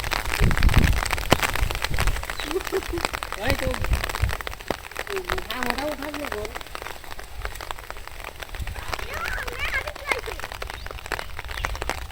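Steady village rain in a short afternoon shower hisses and patters continuously on surfaces while a person speaks throughout.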